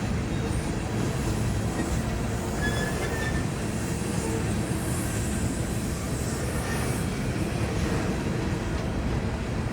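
A Montana Rail Link freight train led by six locomotives, including #4303, rolls past at Cole Road with a loud, continuous rumble of wheels and engines and steady wind noise over it.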